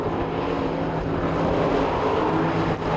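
Street stock race cars at Talladega Short Track, a steady loud engine roar from the pack that holds constant and slightly swells, with no voices over it.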